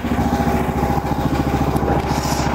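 The small diesel engine of a mini excavator idles steadily while warming up, a loud, close, continuous low rumble with a fast regular chug and no talking.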